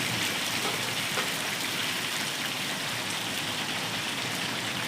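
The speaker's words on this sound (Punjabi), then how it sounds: "ਤੇ ਲੋ ਜੀ بارش ਹੋ ਰਹੀ ਹੈ" Steady rain falls outdoors in a village, a dense, even hiss of drops hitting surfaces that carries on without pause from start to finish.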